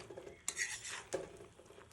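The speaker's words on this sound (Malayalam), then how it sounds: "ഇനി ഇത് നല്ലപോലെ ഒന്ന് മിക്സ് ചെയ്തെടുക്കാം" A spoon stirring a chicken and grated coconut mixture in a pan, two distinct scraping clatters with soft shuffling between them, close and fairly quiet with no talk.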